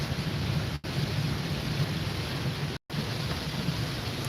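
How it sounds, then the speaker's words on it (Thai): Heavy afternoon rain pours steadily during a car journey, a dense, loud, continuous roar of rain on the vehicle with two brief dropouts and no voices. "บ่ายสองแก่ๆฝนกำลังตกหนักเลย"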